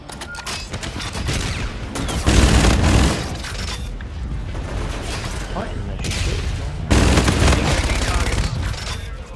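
Gunfire in the multiplayer shooter Call of Duty: Infinite Warfare, played as a sniper with the Longbow and NV4 rifles; loud, dense bursts of shots and booms over a constant battle din.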